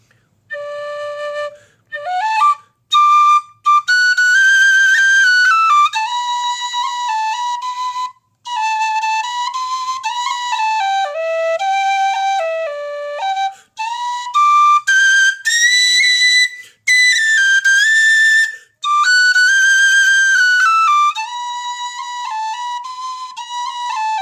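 A high Mazur soprano D tin whistle plays a lively melody of quick ornamented notes and short phrases, close and clear, with brief pauses between runs.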